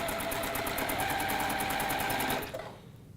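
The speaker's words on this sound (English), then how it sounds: "I'm not going to cut the thread, I'm just going to keep sewing" A sewing machine chain-stitches a row of fabric bunting pieces without cutting the thread, running in a steady rapid whirring pulse up close for over two seconds before it slows and stops.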